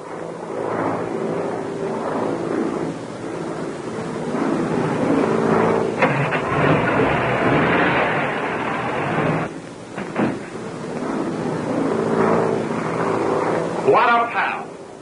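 A steady aircraft engine drone from a 1935-era plane runs throughout, with people talking over it and a brief rising whine near the end.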